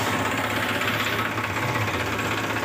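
Tractor engine running in a mustard field, a steady low rumbling chug with a rough throbbing beat, close and continuous with no talk.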